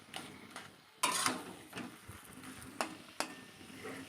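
Spoon stirring taro leaf (kochu shak) curry in a pan, with a soft steady sizzle underneath and a few sharp scraping clacks against the pan; close, moderate level, no talk.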